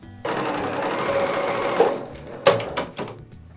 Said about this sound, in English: So I'm going to sew these 2 to these 2 to these, and then we'll go from there.